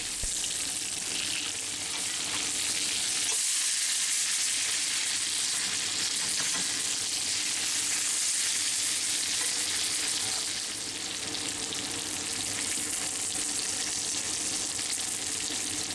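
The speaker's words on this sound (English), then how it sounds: "Cooking the chops in all this butter will add some color and flavor as well." Pork chops frying in plenty of butter in a cast iron pan, a loud, dense, continuous sizzle and crackle that holds steady throughout, with no talking.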